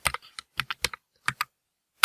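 Computer keyboard keys typed while writing ABAP code, in short irregular bursts of crisp close clicks separated by brief pauses, ending with one sharp final keystroke.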